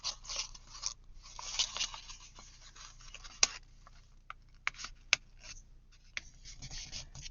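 Paper envelope being flattened and creased for an origami junk journal pocket: soft rubbing and scraping strokes with a few sharp crisp snaps, close and quiet, no talking.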